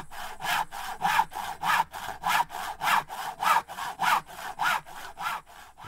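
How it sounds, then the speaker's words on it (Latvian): A hand saw cuts through wood for a birdhouse in steady back-and-forth strokes, about fourteen even rasping passes, close and clear with no talking. "Ar zāģi zāģē koku."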